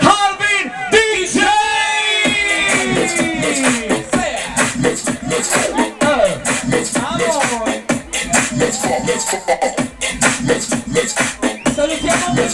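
Crowd at a Gallipoli club night yells, whoops and cheers loudly and continuously for a departing DJ, with excited shouting voices layered over the dense noise throughout.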